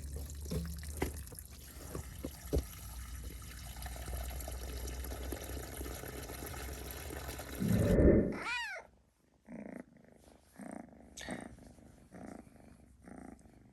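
A cat meows once loudly up close, its rising-falling cry standing out after a stretch of steady background noise, followed by softer scattered sounds.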